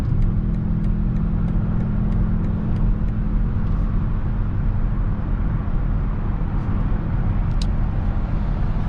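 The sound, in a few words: 2021 BMW X6 M50i accelerating on snowy road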